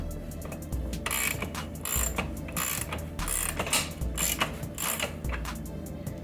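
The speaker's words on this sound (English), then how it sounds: "use an 8 millimeter to hold the axle from spinning while you tighten the other nut" A ratchet wrench tightens an axle nut on a Honda Grom axle slider, a rapid series of close, crisp ratcheting clicks in short bursts with brief pauses between strokes.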